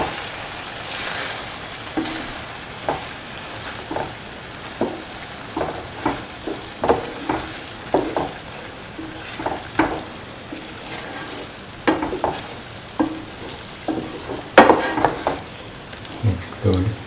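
Vermicelli and egg mixture stirred in a frying pan: a steady sizzle under repeated scraping strokes of a utensil against the pan, coming roughly once a second, close and fairly loud, with a louder clatter near the end.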